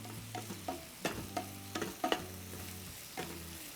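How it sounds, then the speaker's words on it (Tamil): Onions sautéing in a pan as part of a mushroom dum biryani, with quiet, intermittent stirring clinks and scrapes over a low sizzle, no talking. "வெங்காயம் நல்லா வதங்கட்டும்."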